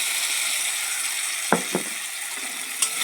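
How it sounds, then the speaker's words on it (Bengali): A ground paste of ginger, garlic, cumin and onion with chili powder, turmeric and salt is stir-fried in oil in a pan, giving a steady close sizzle broken by a few sharp scraping clicks. "মশলাটাকে একটু কষিয়ে নেবো"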